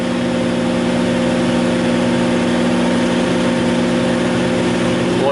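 A Buick Grand National engine runs steadily at a loud, even idle with a constant low hum and no talk.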